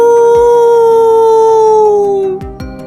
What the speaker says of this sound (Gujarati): શિયાળીઓનો અવાજ.